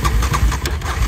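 A Dodge Scat Pack with the 392 engine cranks and rumbles close by in a short burst of low, pulsing engine noise, with no talking over it.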